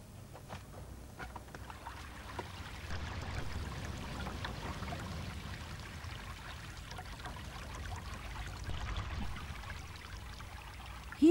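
A stream flows steadily in an outdoor habitat, giving a soft, continuous rushing and trickling of water at moderate volume with small splashes.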